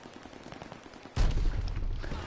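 A 12-gauge shotgun in Call of Duty Vanguard booms once loud and close, followed by a sustained rumbling roar over faint background gunfire.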